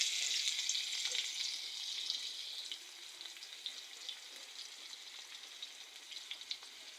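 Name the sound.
chopped onions frying and browning in oil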